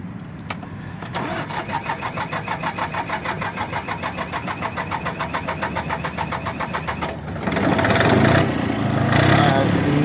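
A small Iseki TU160 diesel tractor with a front loader and rotary tiller cranks with a rapid rhythmic starter churn for several seconds, then fires and settles into a loud running idle, with speech heard nearby.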